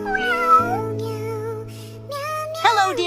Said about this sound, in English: Hello, dear kitten, where you come from? Are you okay, dear friend?